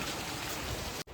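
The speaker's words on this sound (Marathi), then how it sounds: "ज्या प्रकारचा पाऊस पडतोय" Heavy hail and rain pour down in a dense, steady hiss with no let-up, a brief loud wash of falling water and ice.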